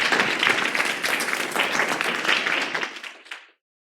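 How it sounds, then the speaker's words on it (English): Audience applause at a creative industry mixer, a dense wash of many hands clapping steadily for about three and a half seconds before cutting off abruptly into silence. "Another big round of applause."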